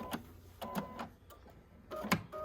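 An 880 sewing machine piecing a quilt block, running in short bursts of quiet mechanical whirring and clicking with brief pauses between stitches, close up and without talk.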